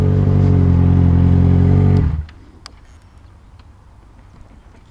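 A Yamaha XJ6 motorcycle engine with a strange fault runs loud and close with a deep droning hum, then cuts out after about two seconds, leaving near silence with a few faint ticks.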